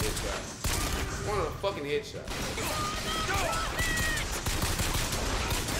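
Rapid bursts of gunfire from a shooting video game crackle in quick succession, mixed with game effects, while a player talks and swears over them.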